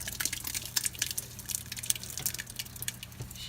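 Goulash sauce pours and drips into a pan, with soft wet splashes and squishy sounds over a low steady hum nearby.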